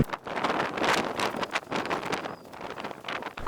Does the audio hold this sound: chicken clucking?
no